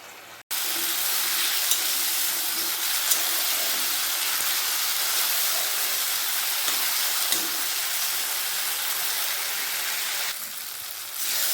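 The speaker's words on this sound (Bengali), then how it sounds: "ভালোভাবে মশলা ভাজানো হয়ে গেছে" Continuous loud sizzling of spices with turmeric and chopped tomato frying in a pan, a dense crackling hiss that holds steady throughout, with occasional stirring scrapes.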